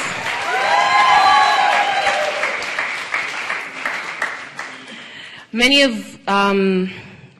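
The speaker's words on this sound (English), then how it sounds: "Let's give her another round of applause." Applause from the audience at an Africa Awareness Week closing ceremony, loud at first with some cheering, then thinning and fading before a speaker starts talking near the end.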